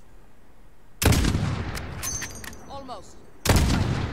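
Two loud, sharp rifle shots in Call of Duty: Modern Warfare, fired at a distant target about 600 meters away, spaced roughly two and a half seconds apart with a brief spoken word between them.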